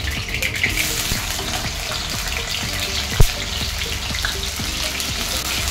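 Carrots frying in oil in a pan for vegetable biryani: a continuous, dense sizzle and hiss at steady loudness, with faint clinks of a utensil and one sharp knock midway, and no talking.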